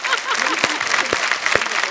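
Studio audience at a comedy talk show applauding, a broad continuous wash of clapping lasting about two seconds, heard with some voices mixed in.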